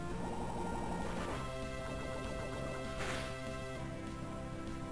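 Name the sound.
Sludge Bomb attack in the video game Pokemon Light Platinum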